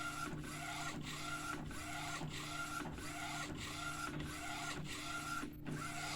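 A 1390 UV printer runs during repair, its print head carriage shuttling in a steady rhythmic cycle of whirring passes and brief pauses about every 0.6 seconds over a low constant hum, faint and close.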